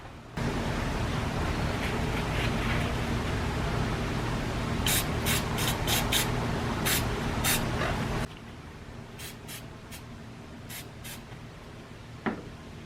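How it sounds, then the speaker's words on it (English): Silicone spray hisses onto O-rings for the upper intake manifold and coolant elbows of a 3800 V6, in several short close bursts over a steady background rush, with no talking. "I'm just going to spray some of that same silicone spray on these O-rings"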